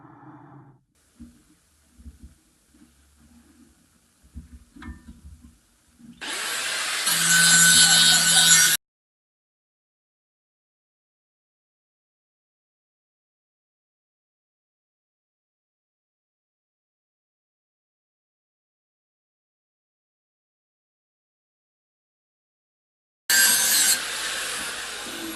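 Victa lawn mower blades being sharpened, heard as two bursts of loud, harsh grinding: a few seconds near the start after quieter handling and tool noises, then a long silence before a second burst at the end.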